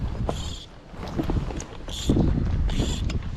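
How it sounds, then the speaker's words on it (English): Breezy wind by a river in Austria buffets the microphone in rough, rumbling gusts that swell and ease, with faint higher chirping sounds coming and going over the blustery roar. "it's quite breezy, as you'll see"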